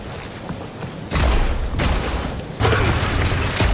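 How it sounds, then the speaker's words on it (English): A heavy cannon dragged out of a wall in the Guardians of the Galaxy video game gives loud grinding, scraping mechanical rumbles in two strong surges, each starting with a thud. "Drax, think you can drag this cannon out?"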